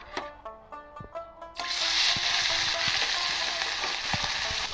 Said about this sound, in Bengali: আমি এবার মাছগুলো দিয়ে দেবো অল্প করে।